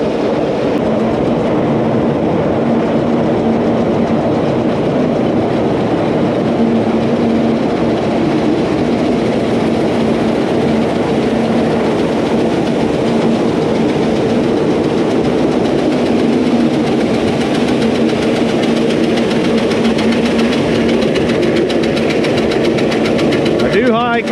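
A grain bin sweep auger and unload drag run continuously inside a farm bin, a loud, steady mechanical rumble and churn throughout with no breaks.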